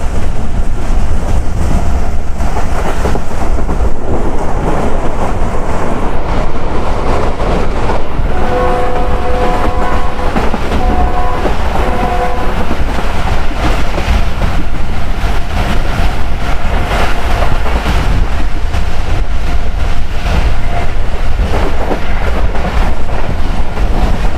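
Hazara Express passenger train running on its tracks through a station near Jungshahi, a loud steady rumble and clatter of wheels with brief tonal squeals partway through, continuous for the whole stretch.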